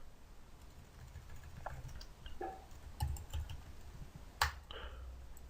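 Keys tapped on a computer keyboard in short, scattered clicks and a few louder strikes, fairly close but quiet against a low room hum, with no talking.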